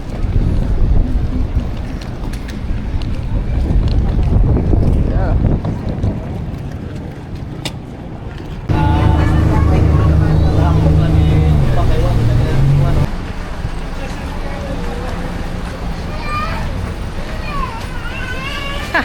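A ferry ride, with a steady loud engine drone and gusting wind roaring across the microphone, and a louder stretch of rumbling engine partway through.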